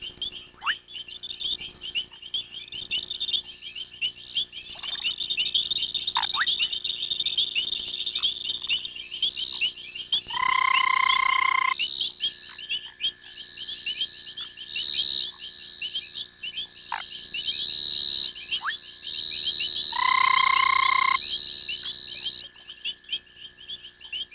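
Foam frogs and other night creatures call around a pond in the African night, with a steady chorus of high chirps and trills and two louder, sustained tonal calls standing out briefly, all at moderate distance.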